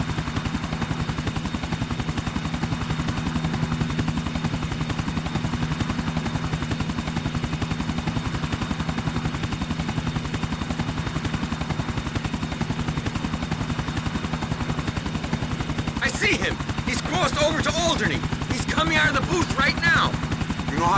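A helicopter's rotor chops at a steady, close rhythm in GTA IV: The Ballad of Gay Tony, droning continuously with the engine hum, while people talk over it during the final few seconds.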